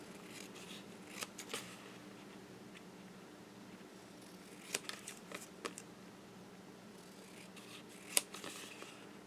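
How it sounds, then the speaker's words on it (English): Scissors snip through a sheet of fun foam while a greeting card is being made, giving a few quiet, separated cuts in small clusters over a low steady background hum. "So what I'm going to do is I'm going to cut that out."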